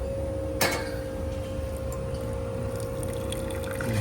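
Water pours from an airport coffee machine in a steady stream over a constant mechanical hum, with a short clink near the start.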